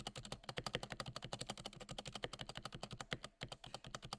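Rapid, continuous typing on a cheap 30-dollar keyboard, dense sharp keystrokes clattering close up in a steady fast rhythm, with a brief pause near the end before the tapping resumes.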